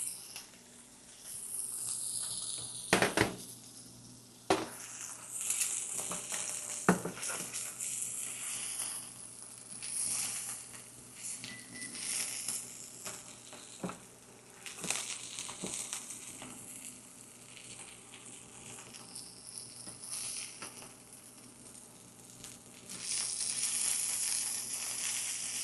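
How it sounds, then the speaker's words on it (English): Tenderloin end steak searing in a hot pan, a steady close hiss and crackle of fat with sharper pops and spatters scattered throughout, no talking. "Oh yeah, you can hear that sizzle."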